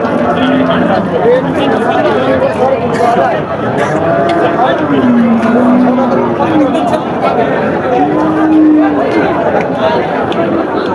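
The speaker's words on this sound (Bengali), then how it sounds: "আরও কিছু গরু বড় বড় সাইজের গরুগুলো আপনারা দেখতে পাচ্ছেন" Large Friesian and cross-breed fattened cattle at a busy cattle market low repeatedly in long moos over the constant chatter of a crowd and nearby talk.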